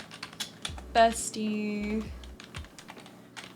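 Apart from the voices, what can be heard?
typing on a computer keyboard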